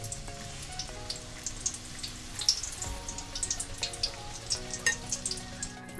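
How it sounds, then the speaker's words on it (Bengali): Chicken pakoras deep frying in hot oil for chilli chicken, a steady dense crackle and bubbling sizzle with sharper pops scattered throughout, close and even, with a faint background hum. "সেম প্রসেসে আমি এখানে সমস্ত চিকেন পকোড়াগুলোকে ভেজে নিয়ে তারপর আমি আবার ফিরে আসছি"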